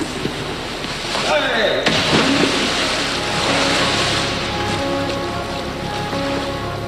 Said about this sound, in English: This is the wave tank at the RNLI's headquarters in Dorset.